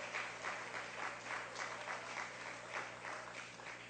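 A church congregation applauds steadily, the clapping sustained and moderately loud throughout, with no voices rising above it.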